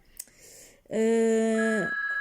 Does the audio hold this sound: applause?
no